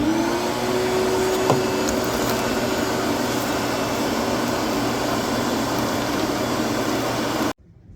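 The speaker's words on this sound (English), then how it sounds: "Let's vacuum that garbage out." A vacuum cleaner sucks debris out of a 1960s Vespa scooter, a loud steady whooshing roar with a faint whine running continuously for over seven seconds before abruptly shutting off.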